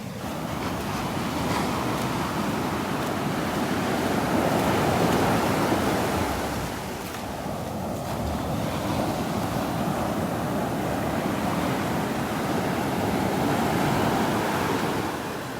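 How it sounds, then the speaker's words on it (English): Surf breaking close to shore on a beach at Naples, Florida: a steady, loud roar of waves washing in continuously, with a slight swell and lull midway, no voices. "the waves are plenty big enough to catch a ride, but they're just breaking too close to shore"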